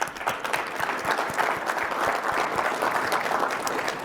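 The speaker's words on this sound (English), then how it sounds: "I want to stop and give you all a big round of applause" A conference keynote audience breaks into a steady round of applause, dense clapping from many hands filling the hall at even volume throughout.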